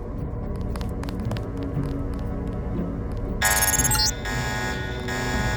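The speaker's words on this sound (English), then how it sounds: "The alarm just closed the north door." Video game alarm going off in Deus Ex, a steady electronic ringing tone with a bright high-pitched pattern that rises over a continuous low hum and background rumble, loud and close, briefly cutting out before resuming.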